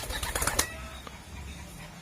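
Pigeons in a fancier's loft give a burst of wing flapping and fluttering up close, followed by a quieter stretch with a faint single rustle.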